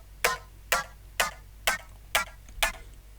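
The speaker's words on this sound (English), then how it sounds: "The first element is actually just a pluck." A bare synth pluck made of attack only, from the melody of an electronic track, sounds six times at an even pace: short, bright, clicky hits with almost no tail, heard alone.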